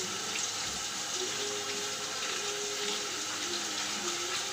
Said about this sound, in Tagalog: hugasan ko yung mga gulay